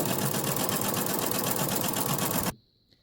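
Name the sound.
sewing machine sewing tote bag seam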